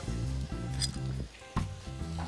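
Peppers, onions and garlic sizzle in a hot pan with chopped bacon, a steady close frying hiss with a couple of stirring scrapes and clatters.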